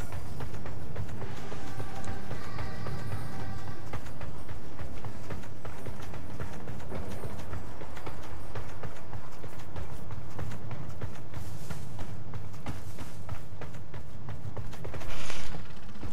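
Horse hooves clip-clop at a steady trot in the fantasy MMORPG Archeage around a city with carriages and stables, the rhythmic clatter running continuously over a dense, full in-game music and ambience bed.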